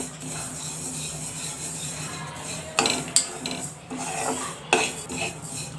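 Ajwain (carom seeds) being dry roasted in a pan to make methi ladoo, heard as a steady close rustle of stirring with a few sharper scrapes and knocks of the spoon against the pan, with no voices.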